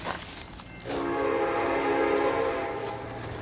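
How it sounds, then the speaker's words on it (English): Train rolling past an abandoned former waste treatment site, its horn blasting a loud sustained multi-tone chord for several seconds over the rumble and rush of the passing cars. "the train going past"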